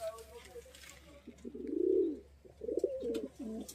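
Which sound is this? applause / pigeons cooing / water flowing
pigeons cooing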